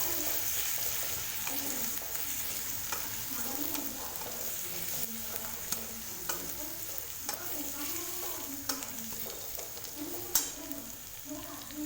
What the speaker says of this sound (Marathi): मी याच्यामध्ये अद्रक लसूण टाकलं आहे त्याला छान असं हे परतून घेणार